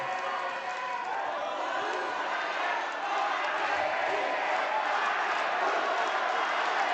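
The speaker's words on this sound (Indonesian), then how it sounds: "Boleh kita kasih tepuk tangan untuk keempat pasangan calon." Applause for the four candidate pairs at a 2024 West Java gubernatorial election debate, heard as a steady, dense wash of clapping and crowd noise that holds at an even level throughout.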